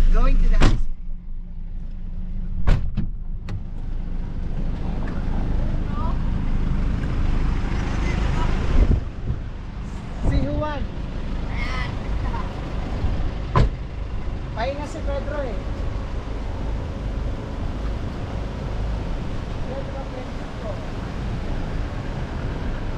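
Riding a utility vehicle: steady motor rumble mixed with wind buffeting the microphone and a few sharp knocks. Voices talk over the noise throughout.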